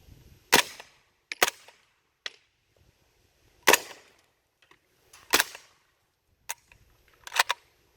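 An Omega MP5 fitted with a suppressor fires about six sharp, cracking shots at irregular intervals outdoors, with faint small clicks and handling noise between them.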